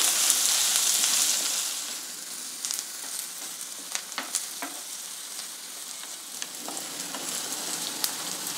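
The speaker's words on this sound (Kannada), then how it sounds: "ಒಗ್ಗರಣೆನಲ್ಲಿ ಮೆಂತ್ಯ ಕಾಳೆಲ್ಲ ಕಂಪ್ಲೀಟಾಗಿ ಫ್ರೈ ಆಗಿ ಚೆನ್ನಾಗಿ ರೋಸ್ಟ್ ಆಗಿದೆ, ಹಾಗೆ ಈರುಳ್ಳಿನೂ ಚೆನ್ನಾಗಿ ಫ್ರೈ ಆಗಿದೆ" Fenugreek seeds and onion fry in hot oil for a tempering, giving a continuous sizzle. The sizzle is louder at first, then settles into a gentler crackle broken by scattered spatters and stirring clicks.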